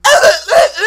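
A voice imitating coughing, two short harsh rasping bursts, close and loud, alone.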